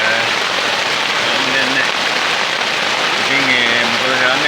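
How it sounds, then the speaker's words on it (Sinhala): Heavy rain driven by wind pours down steadily at a mountain campsite in Salalah, a dense, continuous hiss close by with no letup, and a voice speaks faintly beneath the downpour. "අපි හිතුවට වැඩිය තදට වහිනවා, හුලං ගහ වහිනවා"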